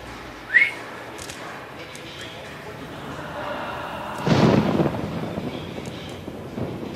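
Thunder in the horror video game Outlast: a sudden rumbling crash midway that swells and slowly fades over a low ambient background, following a brief sharp whistle-like sound earlier.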